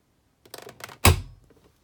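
A Samsung Quick Drive WW90M645OPO washing machine door opens: a few light clicks, then a single solid thunk that fades briefly, with no voices.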